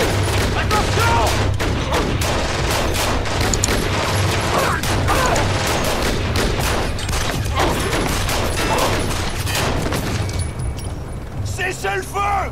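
Rapid gunfire crackles through a police shootout, dense volleys of shots and mechanical clatter, loud and close, easing off near the end with people shouting over it.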